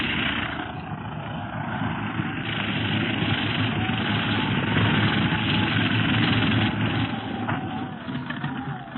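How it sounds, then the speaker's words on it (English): A radio drama effect of an airplane landing: a continuous droning engine and propeller rumble, loud and steady throughout with a slight swell in the middle, heard alone without voices. "The plane is landing."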